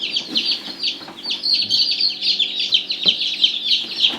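A brood of newly hatched chicks, a small light breed, peeps constantly in a dense, close chorus of high, rapid chirps, with a few soft murmurs beneath.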